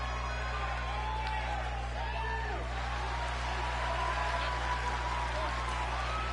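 Wrestling arena crowd cheering and applauding for Jamal Alice, a steady roar with scattered whoops and a constant low hum underneath, continuous throughout.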